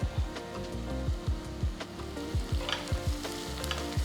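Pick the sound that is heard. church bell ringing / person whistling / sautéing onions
sautéing onions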